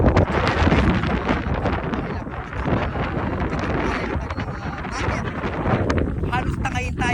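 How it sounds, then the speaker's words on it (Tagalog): Strong wind without rain buffeting the microphone near a waterfall in a loud, continuous roar with gusty surges throughout. "napakalakas na hangin"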